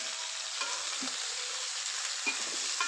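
Oil sizzles steadily in a pan while ingredients for a fish curry fry, with a dense, even hiss and a few soft scrapes of stirring.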